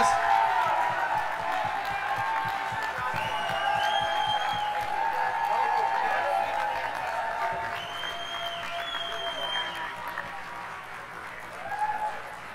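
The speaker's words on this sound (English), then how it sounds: "A round of applause." Audience applause at an EMS simulation games event, a sustained wash of many hands clapping with scattered whoops and cheers, steady and fairly loud for several seconds before tapering, with some voices mixed in.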